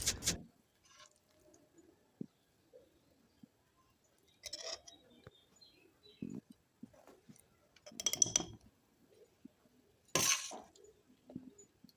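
Mango pieces are poured into a glass jar in short separate bursts, each a close clatter and clink against the glass, with near silence between them.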